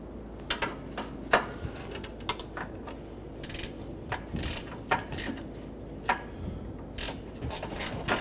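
A ratchet loosens a 10mm bolt on the radiator of a 2007-2011 Toyota Camry with the 2.4L four-cylinder engine. It gives quiet, irregular clicks in short bursts with brief pauses between them, close by with nobody speaking.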